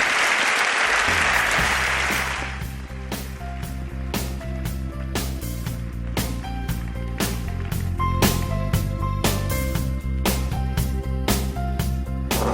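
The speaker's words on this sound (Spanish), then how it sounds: "Os pido un aplauso para ellos." Studio audience applauding the guests of a show, a loud burst of clapping that fades within a few seconds as closing music takes over.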